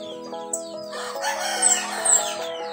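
A rooster crows loudly and close, a long drawn-out call, while other birds chirp and cluck nearby.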